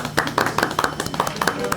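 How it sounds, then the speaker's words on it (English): Hands clapping in a small room during a casual podcast-style talk, a steady run of close, sharp claps at an even rhythm, with some voices faintly around it. "Didn't know what to say, so he just starts to clap."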